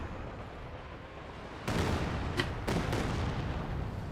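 An artillery barrage in the World War II strategy game Company of Heroes 2 sets off a sudden rumbling roar of blasts over steady battlefield noise, with a couple of sharper impacts following close together.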